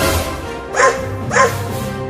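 A dog yelps twice after being hit in a video game, two short high cries about half a second apart over steady game background sound.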